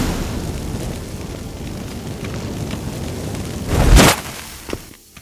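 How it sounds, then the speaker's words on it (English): Magic fireworks released from activated incense in The Witcher game, a steady crackling hiss building to one loud bursting boom near the end before fading out. "Get ready for some magic fireworks"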